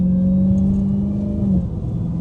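A Dodge SRT Hellcat engine drones loud and steady as the car slides through turns on a rain-soaked road, then the engine note eases off partway through. No one speaks.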